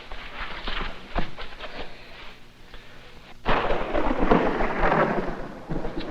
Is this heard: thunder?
yes